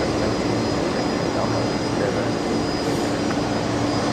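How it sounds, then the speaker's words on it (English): A Virgin-liveried Fokker airliner at Brisbane Airport makes a steady, loud engine roar with a broad rushing hiss and a faint whine, unchanging for the whole stretch, with no voices. "The one and only Virgin liveries Fokker that's based at Brisbane."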